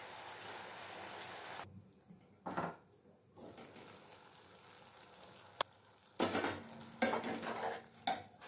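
Mushroom curry is stir-fried in a pan over a high flame, giving a loud, close sizzle that drops away briefly between bursts of stirring, scraping and clattering.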